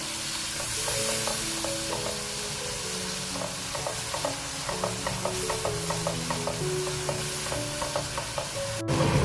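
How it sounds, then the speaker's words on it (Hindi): Cumin powder and red chilli powder with salt being fried and stirred in a pan for aloo matar gajar curry, a steady close sizzle under a regular rhythm of spoon scrapes, no talking. "और अब हमने इसका मसाले को अच्छा सा भून लेना है"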